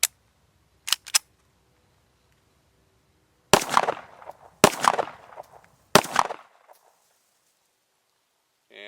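A Remington R51 pistol firing Corbon +P ammunition at a range, with a few faint clicks first and then three loud, sharp shots about a second apart, each trailing a short echoing decay.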